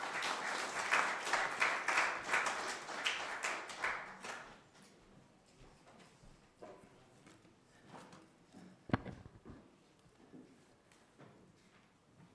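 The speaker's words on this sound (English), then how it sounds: "Round of applause for him," Audience at a Nepal-UK tech forum applauding a speaker as he comes up, dense clapping for about four seconds that quickly fades to faint scattered claps and room noise, with one sharp knock.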